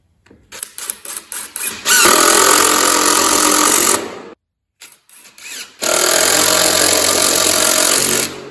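A power driver sinks 2.5-inch SD screws into brackets for a barndominium drop-in floor system: short trigger bursts, then two long, loud, high-pitched whirring runs split by a brief pause, close up and without speech.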